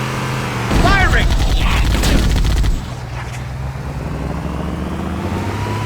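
Gunfire in Halo: Combat Evolved, a loud burst of rapid shots with explosive crackle lasting about two seconds, then dropping to a lower rumbling game ambience with voices faintly underneath.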